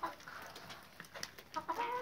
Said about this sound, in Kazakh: үш тауық жатыр енді